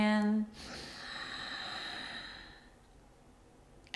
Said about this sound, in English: it's breathing in the back of the throat to create an ocean sound